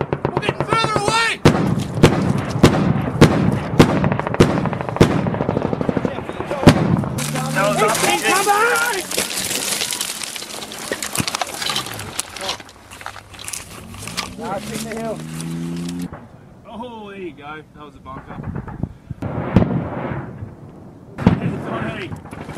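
Gunfire and incoming rounds in a massive Afghanistan firefight involving Australian special forces: sharp close shots and heavy blasts repeat irregularly, with shouted voices talking over much of the action.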